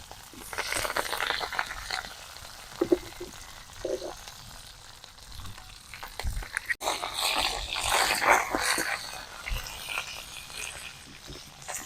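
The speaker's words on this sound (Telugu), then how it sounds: "ఒకసారి దాన్ని ఇట్లా వేయించేసుకొని కొంచెం లైట్గా వేగాయి అని తెలిసిన వెంటనే కరివేపాకు వేసుకుందాం" Sliced bitter gourd frying in hot oil in a pan for a homemade Telugu-style fry, with a steady crackling sizzle broken by a few louder scraping stirs and brief pops, no speech.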